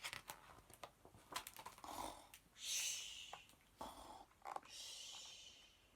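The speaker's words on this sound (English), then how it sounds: "Who's snoring? Is that Papa interrupting?" Papa snores in a children's story read aloud, a series of soft, breathy snorts and drawn-out wheezing snores in an irregular rhythm, close and quiet.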